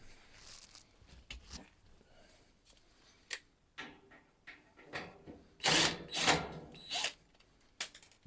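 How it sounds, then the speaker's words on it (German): A cordless drill backs out two screws on a Freepoint Indigo Evo 7 pellet stove that won't ignite. Short, close, whirring bursts come between quieter handling clatter, and the loudest run falls near the end. "nehmen wir uns jetzt einfach mal einen Akkuschrauber her und lösen da die zwei Schrauben."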